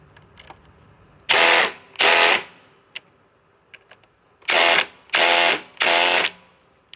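A DeWalt XR DCF860 cordless impact wrench fires in five short hammering bursts, two close together and then three more after a pause, with quiet gaps and faint clicks between them.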